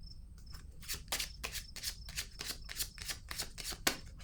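Tarot cards handled and drawn from a deck, a quick run of crisp riffling and flicking taps, close and fairly steady, with no talking.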